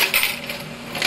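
A PARAS-550/1 coin counting and sorting machine drops coins into their bins, giving bright metallic clinks in quick irregular bursts over a steady mechanical whir, close and loud.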